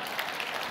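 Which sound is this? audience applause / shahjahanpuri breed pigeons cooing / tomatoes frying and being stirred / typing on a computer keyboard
audience applause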